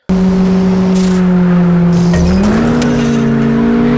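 Car nitro boost in the mobile racing game Need for Speed Underground 2: a loud, steady engine drone that rises in pitch partway through as the boost kicks in, with tire noise and no talk.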